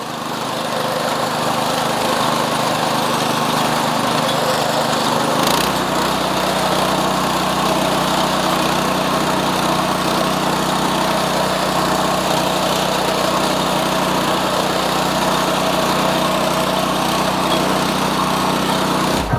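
A loud, steady tractor engine drone runs throughout, with the mechanical whir of a tractor-mounted fodder cutter, 4 feet wide, working close by and no pauses.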